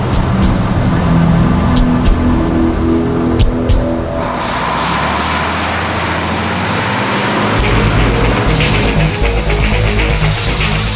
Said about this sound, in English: A smoldering lorry enters the Mont Blanc tunnel.